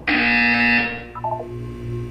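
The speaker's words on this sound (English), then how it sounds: "When you hear the buzzer, look down at the floor." A loud electronic buzzer from the Portal 2 video game sounds alone, a harsh sustained tone that fades after under a second and is followed by a few fainter beeping blips.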